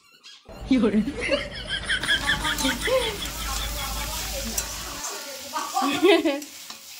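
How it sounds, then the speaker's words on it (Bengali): Vegetables sizzle in a hot pan while being stirred and scraped, with people talking over the frying. "আমার সব সবজি ভাজা হয়ে গেল, ভাবলাম লাস্টে সব একসাথে আর একবার নাড়িয়ে নিলাম"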